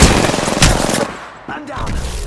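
Rapid pistol gunfire in the shooter game Apex Legends rattles out in loud, close bursts of sharp cracks that keep going almost without a break, with a short lull partway through.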